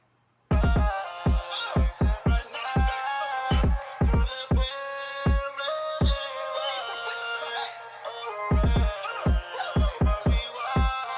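A punchy electronic kick drum thumps through a beat pattern alongside bright melodic synth layers, hits clustered in syncopated bursts with short gaps, loud and up front with no voices.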